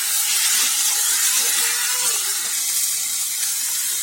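Potatoes fry in a pan with a steady bright sizzle and hiss, fairly loud, with a few faint scrapes and knocks of stirring.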